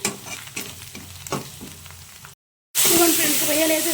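Shrimp fry in a pan with ginger-garlic paste for a cauliflower prawn curry: light stirring clinks and soft sizzling first, a brief silence, then a loud, sustained sizzle bursts up close.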